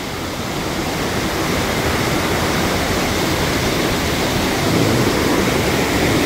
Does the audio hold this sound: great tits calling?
no